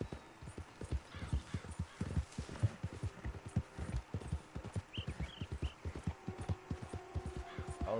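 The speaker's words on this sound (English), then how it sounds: "vou de cavalo" A horse in Red Dead Redemption 2 clip-clops along at a rhythmic gallop, hoofbeats steady and close throughout, with faint background sound and a voice briefly in the mix.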